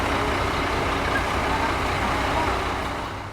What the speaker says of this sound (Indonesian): Nah, ini dia datang juga bus yang akan mengantarkan aku dari Bengkulu menuju ke Kota Padang